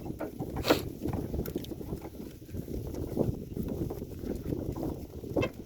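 Soft, irregular hoof clops of horses being led to pasture, a steady muffled patter with a few sharper knocks, fairly close.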